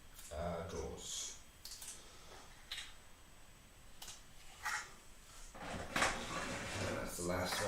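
Lego storage drawers in a home Lego room are handled, giving scattered plastic clicks, knocks and sliding bumps at close range, mixed with soft movement noise and a few faint voices.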